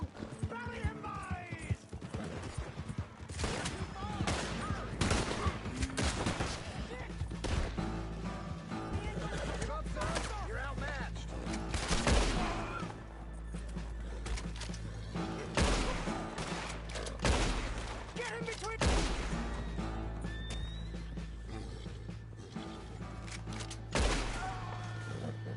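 Frequent gunshots ring out in Red Dead Redemption II, scattered single and clustered blasts mixed with horse hooves, clanking mechanisms and voices from the game.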